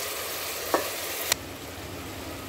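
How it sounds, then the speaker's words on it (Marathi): Tomato puree frying in oil in a pot for a soya chunk pulao, a steady close sizzle with a couple of sharp stirring clicks and scrapes, no voices. "अशी आहे ही प्युरी तेल सोडेपर्यंत आपल्याला चांगली फ्राय करायची।"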